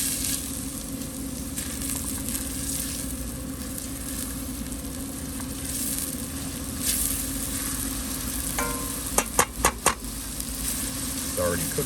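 Herbs and shallots sizzle steadily in hot oil in a pan for mushroom risotto, a constant close crackle, with a few sharp utensil clacks near the end and a voice faintly present.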